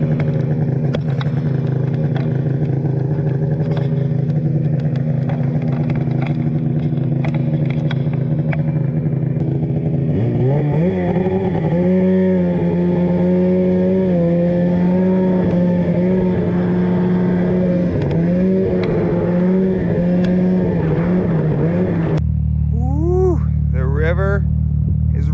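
A loud race snowmobile sled engine runs close by with a steady droning roar, then revs up and holds higher, surging pitch before abruptly dropping back near the end.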